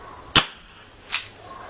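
A gold Dan Wesson CO2 airsoft revolver fires BBs in single action, with two sharp, close cracks less than a second apart. The first crack is louder, and a faint background hum runs beneath them.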